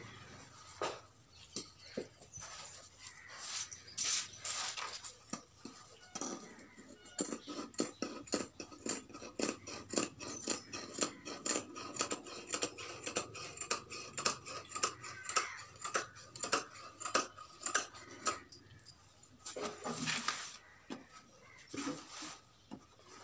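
Scissors cutting fabric for Punjabi pants: a long run of quick, light, crisp snips in a steady ticking rhythm, close and fairly soft, with short pauses between runs.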